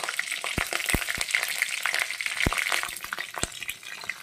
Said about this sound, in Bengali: দিয়ে দেবো একটু কালো জিরে ফোড়ন, দিয়ে দেব 4টে লঙ্কা